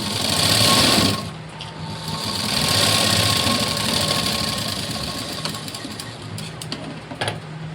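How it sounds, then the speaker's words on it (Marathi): Electric sewing machine running steadily as it stitches a double seam on a blouse, a continuous close whir with a brief pause and slight changes in speed, with no talk. "इथे लगेचच मी डबल शिलाई देऊन घेते।"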